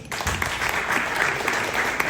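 Dense, steady applause from a dinner-theater crowd at a murder-mystery comedy show in the Orleans Casino, filling the whole short stretch at close range.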